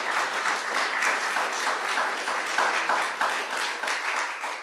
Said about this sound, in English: One more round of applause for all of our readers